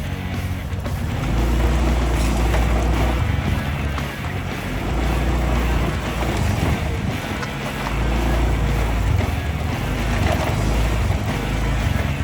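A motorboat engine runs steadily near Peanut Island, Florida, a loud continuous low rumble with wind and water rush over it, no voices.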